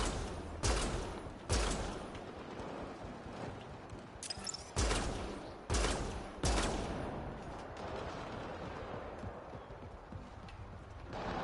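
Gunfire from a shooter game played live on a PS4 comes as several sharp, loud shots spaced irregularly across the stretch, over a steady busy game backdrop.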